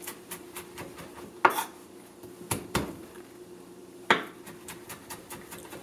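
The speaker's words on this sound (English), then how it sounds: "I'm going to chop some garlic and some onion and some parsley right now" A kitchen knife chops garlic, onion and parsley on a cutting board while preparing a simple Italian Christmas dish with shellfish. A few sharp, loud chops stand out against a scatter of lighter taps and clicks, close up and with no voices.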